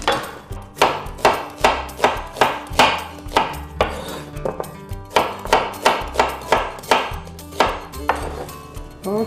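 A knife chops red onion on a cutting board in fast, even strokes, close and loud, with one short pause midway and no talking.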